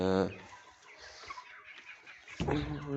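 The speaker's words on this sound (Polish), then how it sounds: "Tak się prezentują kury." Young chickens about 15 weeks old cluck softly in short, scattered bursts, with a louder hen calling at the start and again near the end.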